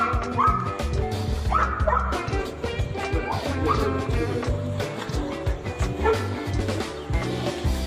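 A dog barks and yips repeatedly, loud and near, in a busy run of short excited calls.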